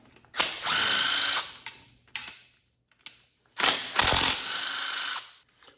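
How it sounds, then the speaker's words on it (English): Ratchet wrench loosening the oil pan bolts on a 2013 Ford Taurus SHO engine, with two long ratcheting runs and a few short clicks in between, close and loud, with no talking. "Let's get some of these oil pan bolts off."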